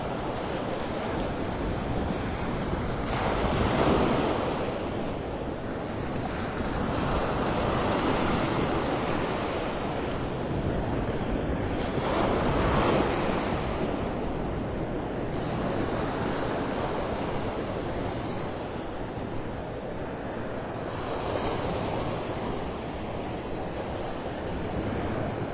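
Ocean waves roll onto Vanderbilt Beach in North Naples, Florida, with surf swelling and breaking in slow repeated surges amid steady wind noise, and no voices are heard.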